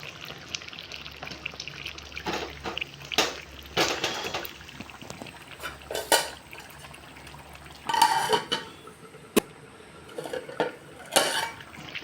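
Spoon scraping and knocking against a pot while stirring fish curry with fenugreek and curry leaves, a series of close, irregular clinks and scrapes over a faint sizzling bed, with no voices.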